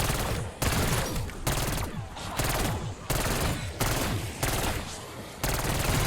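A Kompakt 92 SMG fires in Black Ops 6 Zombies in long, rapid, loud bursts, six or so sustained volleys separated by short gaps, close and dense with no talk over them.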